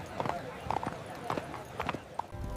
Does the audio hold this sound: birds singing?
no